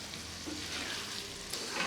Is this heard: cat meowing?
no